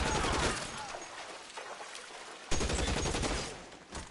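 Gunfire from the video game L.A. Noire: dense, continuous bursts of shots that dip briefly and then surge again with a sharp crack, fairly loud and close with no talking over them.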